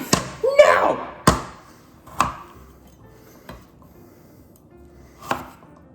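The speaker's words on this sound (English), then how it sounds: "I have the ginger, which I need to cut up" Kitchen knife cutting up ginger on a board: a handful of crisp, separate chops with uneven gaps, close and clear, with a brief voice near the start.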